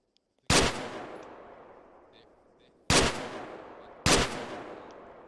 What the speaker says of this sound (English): Were you shooting through the wall?